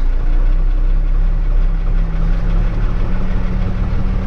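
A tractor with a crop sprayer attached idles close by, a loud steady low-frequency engine rumble with an even, unbroken throb.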